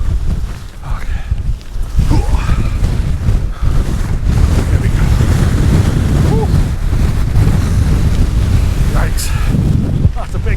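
Strong gusting wind on a Lake District mountain ridge between Howtown and Glenridding roars loudly and continuously across the microphone, with brief spoken words partway through.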